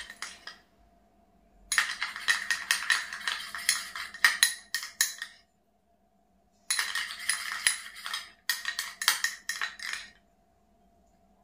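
A spoon stirs a honey cream face-pack mixture in a bowl with quick clinking and scraping strokes in two bursts, separated by a short pause and ending in quiet.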